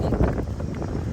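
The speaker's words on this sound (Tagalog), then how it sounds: "Lakas ang hangin dito." Strong outdoor wind buffeting a handheld microphone, a steady low rumbling roar that fills the whole moment with no talk.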